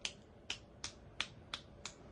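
Six sharp hand claps or snaps, spaced about a third of a second apart in an even rhythm, ring out close and crisp over a quiet background, meant to catch a German Shepherd puppy's attention.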